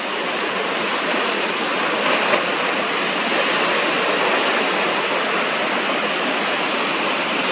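Rough, heavily textured water rushes and churns in a steady, loud broadband roar that holds without pause for the whole stretch, with no voices over it.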